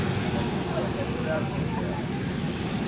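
Scale model Su-27 jet aircraft engines roaring at a Joe Nall model flying event, a loud, steady broadband rush with a faint high whine, continuous throughout, with voices talking underneath.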